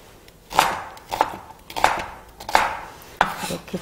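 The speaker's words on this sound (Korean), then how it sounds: "양파를 요것도 약간 도톰하게 이렇게 썰어 주시고 약간 도톰하게 양파를 썰어 주시고요" An onion being sliced thickly with a knife on a cutting board, five distinct close chops at a steady rhythm with quiet between them.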